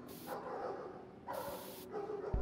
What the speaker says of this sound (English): Oh, there's dogs.